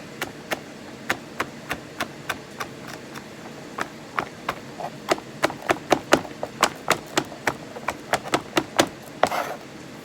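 A knife chops garlic on a cutting board while a Greek homemade spaghetti sauce is being made. Sharp, evenly spaced knocks sound up close, starting at a steady pace and growing quicker and denser toward the end, with no talking.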